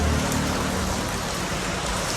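Steady rain pours down in a continuous, dense hiss, loud and close throughout, with no voices over it.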